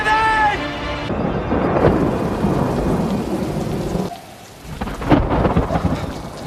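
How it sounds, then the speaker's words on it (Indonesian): Heavy rain pours steadily in a jungle as thunder rumbles through a storm, with a deep boom near the end, the downpour dense and continuous with a brief quieter dip before the storm swells again. "Tiba-tiba hujan turun."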